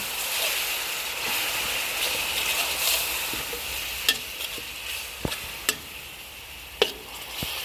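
Pork stir-frying in a hot pan with a sauce of shrimp paste dissolved in fish sauce and bird's eye chilies, a continuous close sizzle punctuated by several sharp scrapes and clinks of a spatula against the pan.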